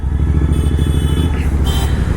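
Royal Enfield 650 twin (Continental GT 650 or Interceptor 650) fitted with a loud aftermarket exhaust, idling in a deep, steady, loud rumble with a dense low-pitched beat throughout.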